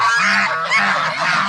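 Farm geese honk loudly and close by in a brief burst of overlapping nasal calls, with no voices.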